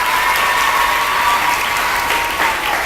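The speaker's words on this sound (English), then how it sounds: "Please give them a big round of applause, children." A crowd of children claps loudly and steadily throughout at a malaria awareness event, the dense applause sounding close and continuous.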